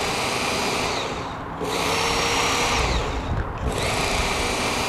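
Work Sharp knife sharpener belt grinding a partially serrated knife, a loud whirring belt with abrasive scraping in repeated passes and brief dips between strokes, with no talk.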